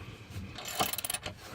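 A wrench ratchets in a quick series of sharp clicks while working a tightly torqued bolt on the rear motor mount of a Focus ST, heard close and fairly quiet.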